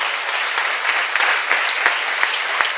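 Church congregation applauding at a Korean seminar on Hosea, a dense wash of many hands clapping at steady volume, with a few sharper individual claps standing out, no talk over it.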